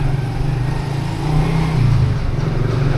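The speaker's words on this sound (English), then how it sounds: "there's a motorbike coming down." A motorbike engine drones close by as it moves along a narrow lane in Malacca, a steady mid-pitched hum that swells slightly as it passes.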